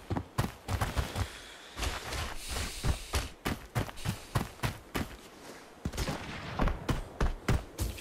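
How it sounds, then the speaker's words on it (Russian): Rapid bursts of gunfire in the video game Arena Breakout, sharp repeated shots at irregular intervals, loud and close over a low background rumble. "Нифига себе выстрел, это мой друг так стрельнул"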